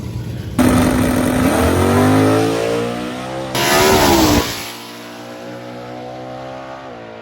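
Naturally aspirated small-block Camaro launches down a drag strip, its engine bursting loud and revving hard through the gears, a shift break, then a second surge before fading into the distance.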